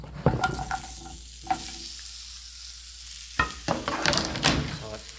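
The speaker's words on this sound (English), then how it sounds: "going to do some saute action. Let's throw this in a pan." Baby zucchini dropped into a hot non-stick pan with olive oil, giving a few stirring clatters and bursts of sizzle with quiet gaps between them, close and moderately loud.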